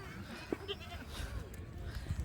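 A goat bleats briefly while being fed small pieces in a village, the cries short and fairly faint against background voices and ambient noise.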